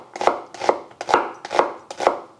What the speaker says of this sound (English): I like to slice my onion from top to bottom, because I find that it holds its shape better